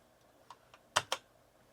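Keys tapped on a BBC Micro computer keyboard, four or five faint, close clicks, the last two sharper, in a quiet room.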